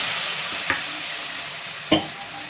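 A spice paste of ginger, coriander, chili and turmeric mixed with water sizzles in hot oil while cooking cabbage, with a continuous hiss broken by two sharp scrapes of a spatula against the pan.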